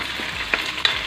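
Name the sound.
fried milkfish and shrimp paste added to pan, sizzling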